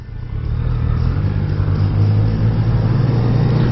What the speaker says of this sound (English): I'd be interested to hear how the GoPro's picking up the engine noise